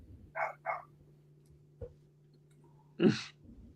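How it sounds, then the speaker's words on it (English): A dog gives two quick barks, then a louder single bark after a pause, heard close by over a faint steady hum in an otherwise quiet room. "Fucking dog."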